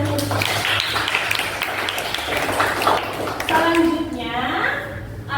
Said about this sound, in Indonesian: Beri tepuk tangan dahulu.